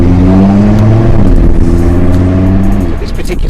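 A 2018 Audi RS3 engine close by, droning and then rising in revs with a deep, throaty tone that drops off near the end.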